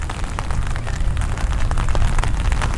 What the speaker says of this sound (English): I believe it's pouring rain right now